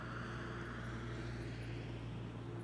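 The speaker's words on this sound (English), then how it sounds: "Here's EasyJet from" An EasyJet airliner arriving from Malaga touches down at Manchester Airport with a steady, droning engine hum and sustained rumble, fairly distant and continuous, with no one talking.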